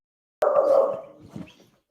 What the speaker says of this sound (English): This guy's always barking.